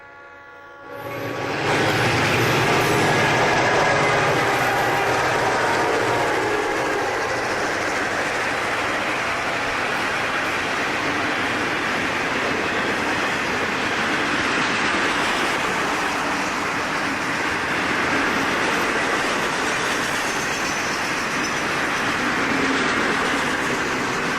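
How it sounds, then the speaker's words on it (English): An empty Florida East Coast Railway rock train rumbles past loudly and steadily for a long stretch, a continuous roar of wheels and cars with a horn sounding early on. "This is the empty rock train running as either a 301 or an extra south."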